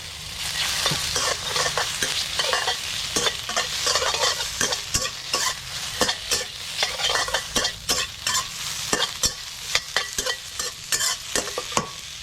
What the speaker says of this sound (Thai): ผัดเครื่องต้มยำให้หอมหมดเลย เห็ดหอมใส่ไปเลย